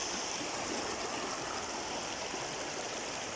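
Fast floodwater from Typhoon Ulysses in Nueva Ecija rushes loudly and continuously across a road, with a dense, hissing roar and no break or other sounds.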